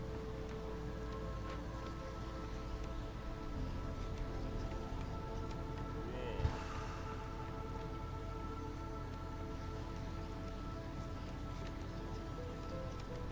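Bitter rain falling in the game Against the Storm: a steady, even hiss of rain patter on surfaces, unbroken across the whole stretch with one small tap near the middle.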